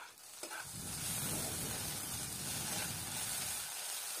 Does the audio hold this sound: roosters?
no